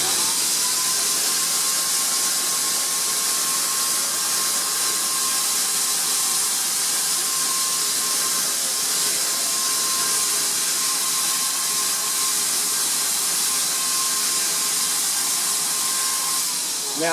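An airless paint sprayer coats an indoor or outdoor ALR projection screen with a steady, loud hissing spray that runs without a break, with a faint tonal whine from the machine underneath.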